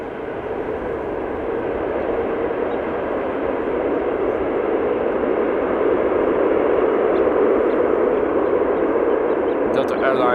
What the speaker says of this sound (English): A330 Neo arriving from Salt Lake City.